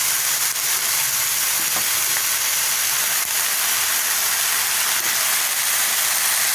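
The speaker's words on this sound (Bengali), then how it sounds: "জল দেবো পরিমাণ মতো, আমি একটু নেড়ে চেড়ে তারপর আর একটু জল দেবো" Pumpkin greens sizzle loudly in a pan while water is added and they are stirred. A dense, continuous hiss with faint scraping runs throughout, and no one speaks.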